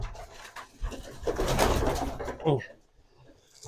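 Racing pigeons in a loft cooing in low, rolling murmurs, with bursts of wing flutter and shuffling close by while someone talks over them.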